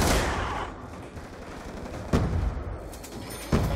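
M-Tar rifle fire in Call of Duty Black Ops 2 Zombies: a sustained, loud stream of automatic shots with a couple of sharper accented bursts, dense and close, no talking.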